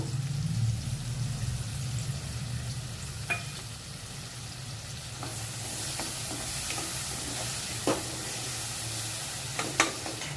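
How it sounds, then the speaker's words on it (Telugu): Thinly sliced onions frying in a pan give a steady, close sizzle across the whole stretch, with a few soft stirring scrapes and clicks now and then, and no voices. "వేగిన తర్వాత ఉల్లిపాయలను అయితే వేసుకోవాలి చాలా సన్నగా కట్ చేసుకోవాలి"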